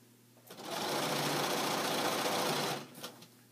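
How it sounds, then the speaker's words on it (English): A sewing machine stitches a straight seam on a pillowcase in one continuous close whir lasting about two seconds, starting and stopping cleanly against a quiet room. "And you just do one straight seam all the way down."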